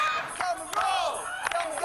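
A crowd screaming and howling at an event, a dense mass of high, wavering shouts and cries with some sharp knocks mixed in, loud and close throughout.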